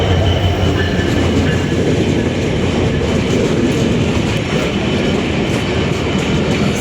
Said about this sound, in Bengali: ট্রেন ঢুকতেছে